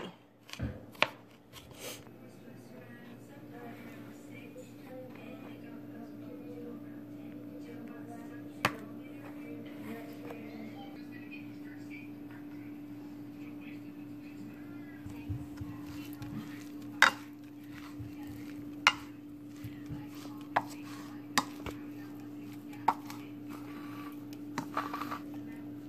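Scattered sharp knife taps chopping garlic on a cutting board, irregular and fairly quiet, over a steady low electrical hum.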